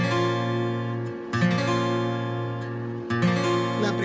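A strummed acoustic guitar chord, with the open first string ringing, rings out, then is struck again twice, each ringing steadily with clear sustained tones.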